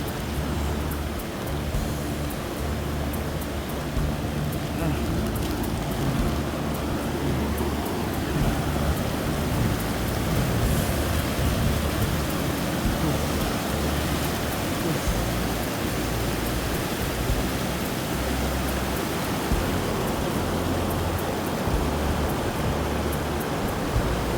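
Heavy rain pours down in the Valley of Flowers, Uttarakhand, as a dense, steady rushing hiss that fills the whole scene at a constant loudness, with no voices.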